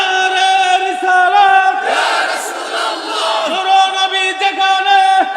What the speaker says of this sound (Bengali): একটা স্লোগান দেন দেখি, পাগলা স্লোগান।